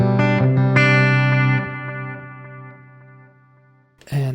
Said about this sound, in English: here's that combined with a tape echo